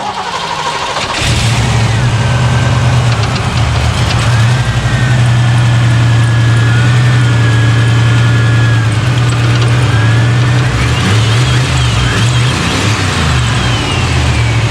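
A Ford 302 V8 with about 500 horsepower cranks briefly, fires up and settles into a loud, steady run close by, with a few throttle blips lifting the pitch near the end.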